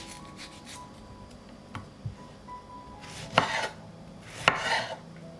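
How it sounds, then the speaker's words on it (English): Tomatoes are cut into large pieces with a knife on a board, giving faint scattered taps and then two louder, sharper chops close by. "I wash the tomatoes, and I will cut them into larger pieces."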